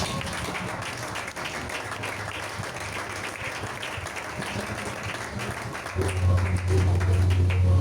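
A church congregation applauds in steady, continuous clapping with crowd murmur mixed in, joined near the end by a low sustained instrumental tone.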